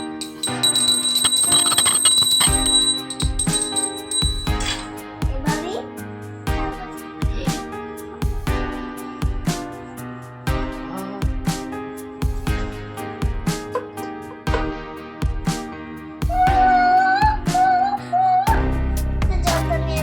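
A hand bell rung at a home puja in Bengal, loud close ringing in steady rhythmic strokes with sustained metallic tones, continuing for about twenty seconds.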